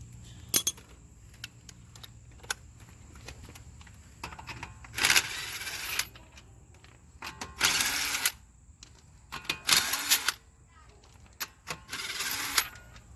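Lug nuts on a Chrysler 200s wheel being removed with a 3/4 socket, several bursts of ratcheting clicks separated by metallic taps and clinks, close by.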